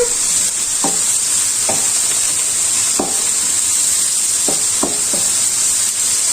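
Onions and mushrooms fry in a pan for mushroom turnovers, a loud steady hissing sizzle close up, with scattered light scrapes and clicks from a stirring utensil and no voices.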